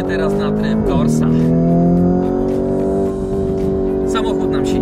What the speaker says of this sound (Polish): Dźwięk jest tak rasowy, jak powinien być w każdym Lamborghini.